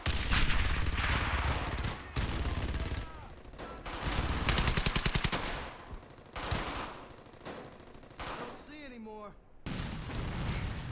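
Machine-gun suppressing fire in the WWII video game Brothers in Arms: Hell's Highway, with repeated loud rapid bursts and single gunshots amid battle noise, stopping briefly before firing resumes.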